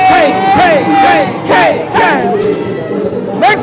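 An audience whoops and cheers in repeated rising bursts at a live stage show, loud and close, with brief lulls between the shouted surges.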